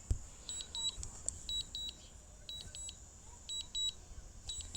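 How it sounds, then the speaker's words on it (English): A small electronic device gives off a run of short, high-pitched beeps in irregular clusters, repeating throughout over a faint background hiss. "You just hit the power button once. And that annoying beep goes away."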